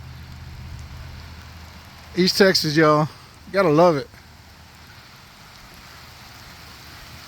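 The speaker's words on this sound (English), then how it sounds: "Just some beautiful rain right before the storms get here." Steady rain falls in East Texas just before storms arrive, a soft, even hiss throughout, while someone speaks briefly over it.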